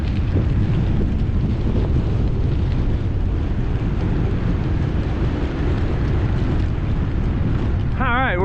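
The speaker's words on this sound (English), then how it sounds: "We're climbing, but we're leveling out, still going into a headwind." Headwind buffeting a cyclist's microphone on a ride near Gainesville, Texas, a loud continuous low roaring rush of wind noise throughout, with a brief wavering tone at the very end.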